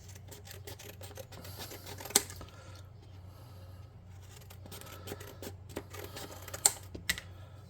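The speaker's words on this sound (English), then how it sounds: "I think the easiest thing to do would be cut some strips of" Scissors cutting strips of material for tabletop RPG terrain, a run of close, sharp snips and crisp clicks at irregular intervals over a quiet background.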